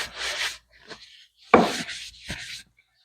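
A rag wipes finish onto a teak chair in a few short, soft swishing strokes with brief pauses between them, close and quiet.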